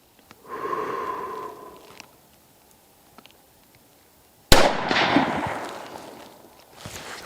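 A single sharp, loud 6.5 Creedmoor rifle shot firing Winchester XP 125 grain ammunition cracks midway and rolls off in a long decaying echo, preceded by a brief rustling breath-like noise.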